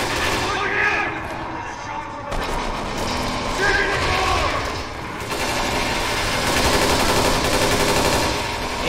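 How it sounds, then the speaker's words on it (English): Automatic AK-47 fire from the Kane & Lynch 2 video game crackles in sustained, loud bursts over dense game noise, with voices talking underneath. "AK-47 gun."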